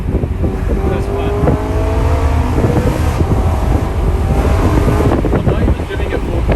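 A BMW E90 M3 with a custom exhaust pulls under part throttle from inside the cabin, a loud, steady engine drone with rising harmonic sweeps and heavy wind and road rumble beneath it.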